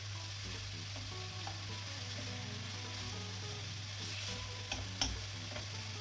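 Bacon sizzles steadily as it renders in its own fat for carbonara, a continuous crackling hiss with a few sharper pops near the end, over a low steady hum.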